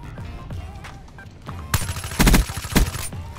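Kuda submachine gun firing in the Black Ops 3 video game, with short bursts of rapid automatic fire in the second half following quieter game sounds, someone talking over it.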